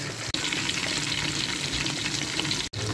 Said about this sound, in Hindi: चिकन लेग पीसेस हम 2-2 करके फ्राई करेंगे।